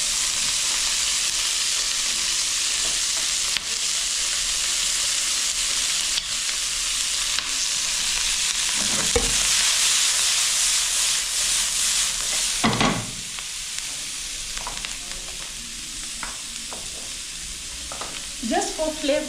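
Pizza ingredients frying in a hot pan, a loud, steady close sizzle for most of the stretch that drops to a quieter crackle near the end, with a few clinks of utensil against the pan.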